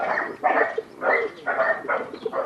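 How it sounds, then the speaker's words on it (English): Dogs bark in repeated bursts, several dogs yapping in uneven clusters at moderate distance, with short gaps between volleys. "You might be able to hear my next door neighbour's dogs barking."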